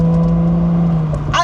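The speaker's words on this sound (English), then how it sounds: "the sound, it's like you got dual chrome exhaust back there, but it's a V6" A Chrysler Prowler's V6 running through dual chrome exhausts gives a steady low engine hum that swells briefly toward the end, close and alone.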